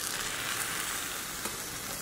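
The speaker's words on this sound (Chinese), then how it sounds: "电饼铛我们开上下开关，中火，盖上盖子，烙6分钟。" A pea and egg pancake cooking at medium heat in a lidded electric griddle pan with both top and bottom plates on, giving a steady, even sizzle with no breaks.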